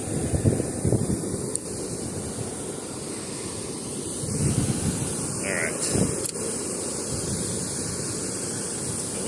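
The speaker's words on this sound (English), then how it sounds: "It's actually a little bit windier than I thought it would be." Strong wind buffets the microphone continuously at a lake during an autumn fishing trip. The low rumbling gusts are close and loud and swell and ease without a break.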